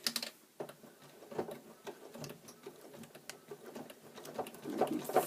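A sewing machine stitches trim to a quilt in short, soft bursts of needle patter, slowing and pausing as it works toward a corner, close and fairly quiet.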